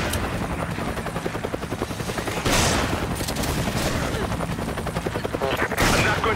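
Rapid bursts of gunfire from the video game Resident Evil 5 rattle over a constant engine-like drone, with sharper volleys and booms standing out partway through.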